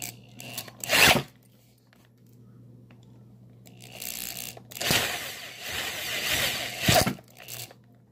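Drill boring into a Best SFIC lock core, with short bursts of grinding and crunching as the bit bites, separated by quieter stretches with a steady low hum, close and moderately loud.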